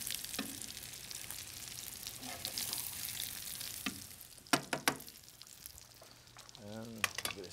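Salmon fries in a pan with oil and butter, giving a steady, faint sizzle throughout, with a few clattering utensil knocks and a brief voice near the end.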